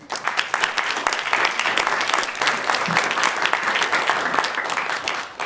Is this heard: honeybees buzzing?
no